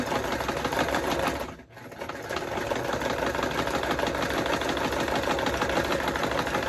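A sewing machine stitches fabric at steady speed, producing a continuous, close, rapid mechanical chatter. The run breaks off in one brief dip before carrying on without a pause, and no one talks.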